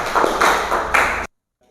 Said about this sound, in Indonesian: Tepuk tangan dulu, apresiasi untuk kelompok 1